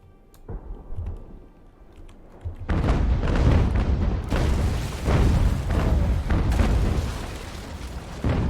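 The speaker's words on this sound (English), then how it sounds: "Where they exchange broadsides, but they are still getting damaged." Ship cannon broadsides from sailing warships in the Ultimate Admiral: Age of Sail naval game, a heavy rolling barrage of booming blasts that builds into sustained loud rumbling after a few lone shots.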